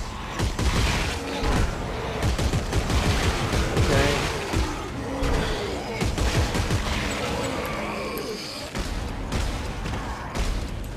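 A plasma gun fires during combat in the video game Dead Space 3, producing dense, loud, rapid bursts of shots and booms that continue throughout, with game voices faintly underneath.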